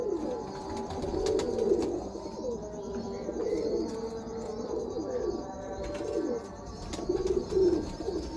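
A pair of breeder pigeons, a male with a Chinese hen, coo steadily in repeated rolling phrases close by, with a few faint chirps and wing shuffles, no voices.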